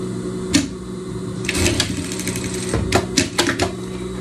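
A sewing machine stitches a seam on a summer jardineira outfit with a balloon skirt, running in short rapid bursts with mechanical whirring and clatter, close and clear, no talking.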